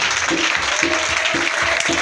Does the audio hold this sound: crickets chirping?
no